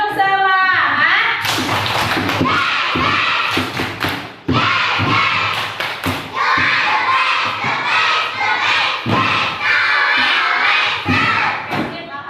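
A classroom of children claps together in a quick rhythmic pattern, with shouts and cheering mixed in, loud and close.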